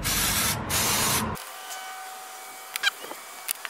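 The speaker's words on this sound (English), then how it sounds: "Then we're going to spray them with brake cleaner." Two loud hissing bursts from an aerosol can of brake cleaner sprayed on brake parts, close up, followed by quiet with a few small clicks and taps.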